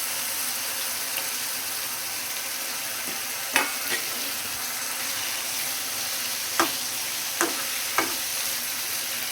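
Fried parshe fish is added to spiced masala and sizzles in the pan, a steady hiss punctuated by several sharp clinks and scrapes of a spatula, with no talking.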